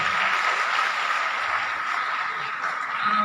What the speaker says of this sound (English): A big clap for Dr.